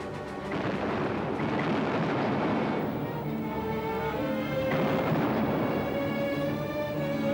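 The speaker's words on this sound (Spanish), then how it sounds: "El Bismarck y el Prince Eugen contestaron al fuego" The battleships Bismarck and Prinz Eugen fire on HMS Hood, heard as a continuous heavy roar of naval gunfire with deep rumbling booms that swell and fade, loud and dense throughout.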